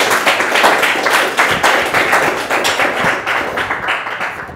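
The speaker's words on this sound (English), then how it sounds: "So let's give him a round of applause." A small audience at a tutoring awards ceremony claps for a student, with distinct, fairly close hand claps forming an uneven rhythmic patter that tapers off near the end.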